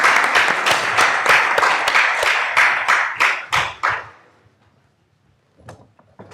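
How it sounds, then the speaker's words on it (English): A conference audience applauds the athlete representative at a sports-medicine talk, several seconds of loud, close clapping that fades out, then a few faint taps and rustles. "Give a special applause for our athlete representative today."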